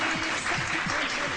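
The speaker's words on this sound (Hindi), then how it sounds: "तालियां होनी चाहिए, वाह।" Studio audience applause on a Pakistani TV morning show, a short burst of moderately loud clapping with a voice talking over it.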